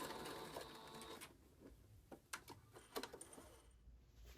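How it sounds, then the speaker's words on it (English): A home sewing machine stitches a shopping tote seam, running steadily at first, then breaking into short bursts of a few stitches forward and back, close and fairly quiet. "I'm going to lower the presser foot, take a few stitches forward, back stitch a few"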